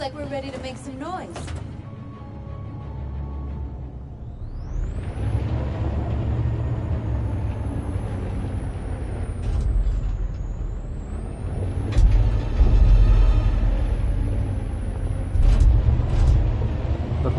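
A truck with air brakes in the Detroit: Become Human video game rumbles steadily with a low engine drone, a sharp hiss and rising mechanical whine, growing louder toward the end, with faint voices underneath.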